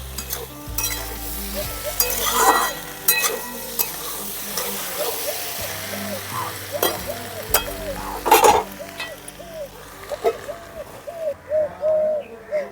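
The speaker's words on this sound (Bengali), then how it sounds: "টমেটো কুচি শুকনো লঙ্কার গুঁড়ো জিরের গুঁড়ো একটু নাড়াচাড়া করে আবার ঢাকা দিয়ে দেবো" Chopped tomato, dried chilli powder and cumin powder sizzle in a frying pan while a spatula scrapes and clatters in irregular strokes, and a dove coos repeatedly in the background.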